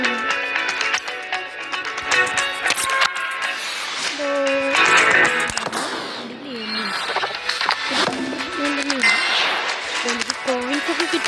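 A mobile video game plays bright chiming dings and clangs over game music, with repeated coin-pickup jingles scattered across the sequence.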